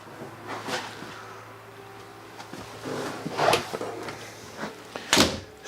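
Several wooden thuds and clicks of a bathroom cupboard door in a 2018 Heartland Elkridge 280 fifth wheel being opened and shut, spaced irregularly over a quiet background hum.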